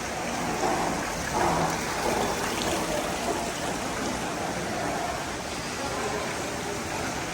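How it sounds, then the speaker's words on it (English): Steady splashing water from two decorative fountains at a resort restaurant in Riviera Cancun, a continuous broadband rush filling the whole stretch, fairly close and even, with faint voices now and then underneath. "There are 2 really pretty fountains."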